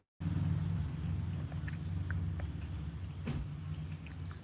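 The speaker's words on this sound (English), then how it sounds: "Yes, this is a Porsche 944." A Porsche 944 idles with a steady low engine rumble heard from inside the car, constant and close with a few faint clicks over it.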